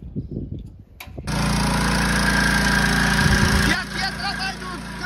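A pool pump motor starts abruptly and runs steadily, draining a swimming pool. It is a loud, constant mechanical hum with voices talking over it.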